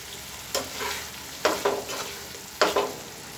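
Potatoes being stirred and fried in a pan for a rohu fish curry, three scraping stir strokes over a steady soft sizzle, close and fairly quiet.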